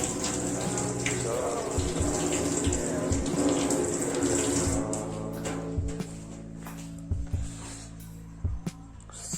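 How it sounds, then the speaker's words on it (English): Water runs steadily from a tap to rinse a makeup brush in a sink, a loud continuous splashing stream that thins into scattered drips and small taps near the end. "then let's rinse it"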